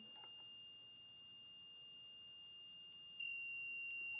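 Ignition timing tester giving a steady high electronic tone while the points of a two-stroke engine are adjusted; the tone holds, then shifts abruptly near the end, faint shop background underneath.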